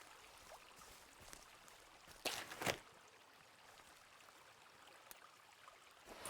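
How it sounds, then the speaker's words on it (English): Loud flowing water in the survival game Sons of the Forest rushes steadily throughout, with a brief, louder splashing surge near the middle. "water's loud."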